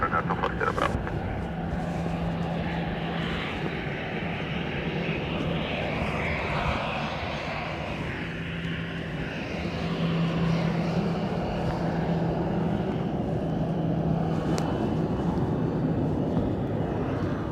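A Ryanair airliner landing on runway 28 left at Dublin Airport on a windy morning, heard as a continuous loud engine roar that swells and holds for the full length under gusting wind noise.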